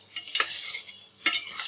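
Chicken pieces are stirred into sweet and spicy Korean-style sauce in a pan, giving two close scraping bursts of a spoon against the pan with a soft sizzle between them and no talking.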